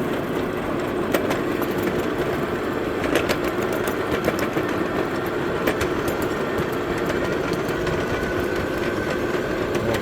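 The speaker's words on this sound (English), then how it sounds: "My engine's slipping coming up this hill here a little bit." A small motorbike engine drones steadily beneath heavy rumbling road noise, with faint rhythmic clicks, slipping and labouring continuously as it climbs a hill.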